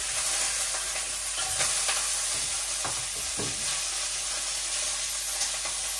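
Three fish sizzling in a hot pan with chopped onion, a steady loud frying hiss with occasional stirring scrapes and no talk.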